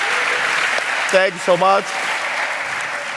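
An audience applauds graduating kids from an academy, steady room-filling clapping throughout, while someone briefly speaks over it near the middle.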